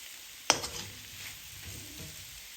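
Potatoes cooking in a pan over a low gas flame, a sharp clatter of a utensil against the pan followed by a soft, steady sizzle that continues alone.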